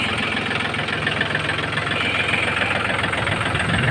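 A Yanmar 39 tractor engine idles steadily while hitched to a combine harvester trailer, a continuous close, loud diesel rumble with slight knocking texture and no voices.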